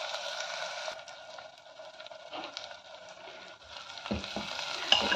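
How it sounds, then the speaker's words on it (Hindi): Onions sizzle and fry in a pan while being cooked for a Kolhapuri-style spicy misal, a steady close hiss with occasional stirring scrapes and clatters near the end. "प्याज को अच्छे से मिक्स कर लूंगी और थोड़ी देर इसको फ्राई करूंगी।"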